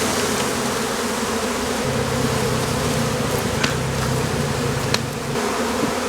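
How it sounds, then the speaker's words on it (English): A dense swarm of bees buzzes continuously and close during removal of a beehive from a bunch of bananas. A low steady drone runs throughout with a few brief knocks. "So we'll just shake these bees into there."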